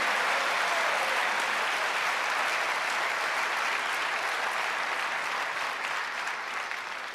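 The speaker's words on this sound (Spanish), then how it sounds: "Denle un aplauso al Señor, hermano" A church congregation applauds during a sermon, a dense, even wash of clapping that holds steady and tapers slightly toward the end, with no talking over it.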